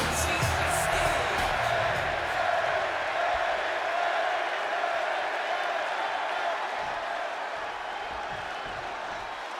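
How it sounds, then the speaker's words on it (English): Arena crowd in a WWE 2K26 wrestling game set in Chicago, a dense steady roar of cheering and applause that fills the whole stretch, loud at first and easing slightly toward the end. "just listen to this crowd here in Chicago"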